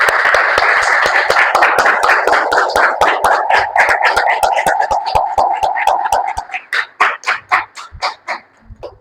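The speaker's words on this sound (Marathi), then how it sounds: "टाळ्या वाजू येशूसाठी" A church congregation claps together in fast, dense rhythm, many hands merging into a loud continuous patter that thins after a few seconds into separate, slower claps fading out.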